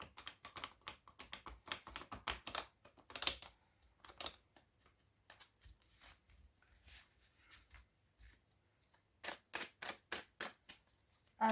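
Tarot cards being shuffled by hand, a run of quick dry papery riffles and taps in irregular bursts with short pauses between, close and fairly quiet, no voices.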